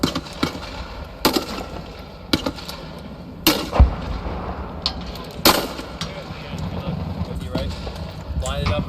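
A grenade launcher fires in a few sharp, separated booms with low thumping impacts, spaced over several seconds beneath ongoing talk and background noise.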